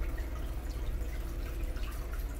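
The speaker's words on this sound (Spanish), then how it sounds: "Le voy a poner acá media taza de vinagre cuarteado con agua." Half vinegar, half water is poured from a cup while making Guatemalan enchiladas, a soft steady liquid splash with light dripping, fairly faint and close, with no speech.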